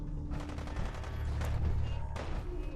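Rapid bursts of gunfire from the video game Fallout 4 rattle continuously throughout, dense and loud, with a sharper crack near the end.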